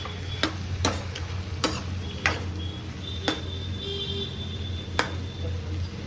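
A pumpkin vegetable curry is stirred in a pan, with a spoon scraping and clicking against the metal in several sharp taps over a steady low hum.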